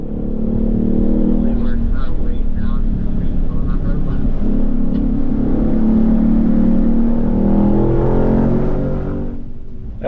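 A Ford Mustang Mach 1 on a race track, held in third and fourth gear, gives a steady loud engine drone from inside the cabin with small rises in revs, and a voice talks over it.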